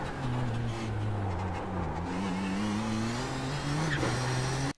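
A race car in the iRacing simulator at the Long Beach circuit, engine droning steadily under throttle with pitch rising and an upshift, then cutting off abruptly, loud and close, no voices.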